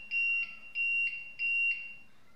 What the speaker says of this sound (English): that's a warning beep saying that there is no power to the APC unit